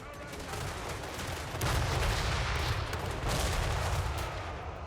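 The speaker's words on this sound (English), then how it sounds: "Come on, cannons! Our reload is a bit rubbish. Slay them before they do us! Cannons! Fire!" Cannons fire during a battle in the video game Total War: Warhammer 3. Dense booming and crackling gunfire roars continuously, growing heavier midway, over a constant wash of loud battle noise.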